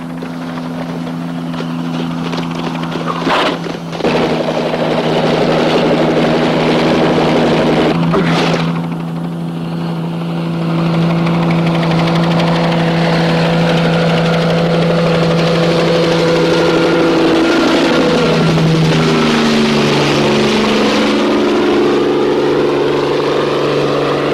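A cartoon helicopter engine drones steadily and loudly for the whole stretch, its steady hum shifting pitch near the end as it seems to pass or turn, with no talking.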